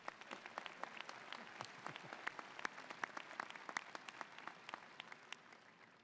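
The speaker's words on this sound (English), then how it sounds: "Let's give them all a round of applause as well." Audience at an Ohio University fall commencement ceremony clapping together, a steady dense patter of many hands heard from a distance at fairly low volume, fading slightly toward the end.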